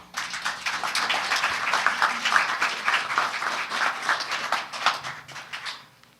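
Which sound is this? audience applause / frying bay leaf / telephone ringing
audience applause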